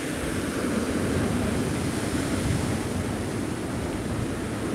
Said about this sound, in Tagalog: malalaking alon na lang po ang aming nararanasan dito